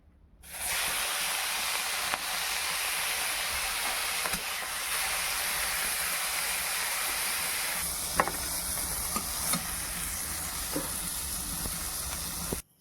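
Shrimp fry in hot oil in a kadai, giving a loud, continuous close sizzle that holds steady throughout, with a few light clinks and stirring sounds toward the end.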